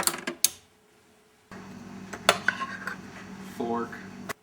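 Metal cutlery, including a knife, fork and spoon, clinks and rattles close by, with a few sharp clacks and a longer stretch of jangling and scraping.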